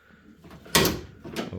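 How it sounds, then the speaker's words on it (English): The door of a 1991 Jeep Wrangler YJ opens with a sharp metallic clunk followed by a shorter second knock, close by and with no talk. "Open up my door here."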